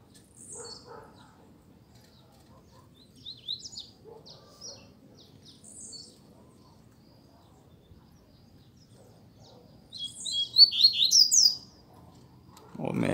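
A double-collared seedeater, a caged coleiro out in the bush, gives faint scattered chirps and short song phrases, then a louder burst of twittering near the end, with soft talk underneath.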